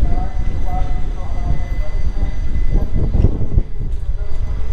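The 12311 Netaji Express on its Howrah to Kalka run rumbles along, heard from on board as a loud, continuous roar of wheels and carriage noise with deep low-end weight and occasional louder surges.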